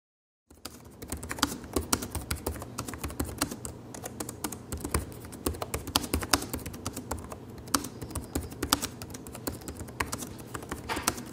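Fast, continuous keystrokes clatter on the backlit keyboard of an Acer Aspire laptop, a close, crisp run of irregular taps with no voices.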